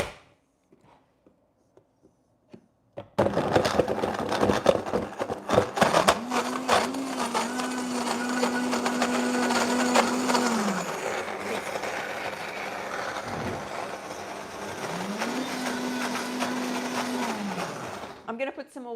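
A kitchen blender whirs through peanut butter chia pudding after some clattering handling, running in two sustained bursts with a brief pause between. Speech is heard faintly around the noise.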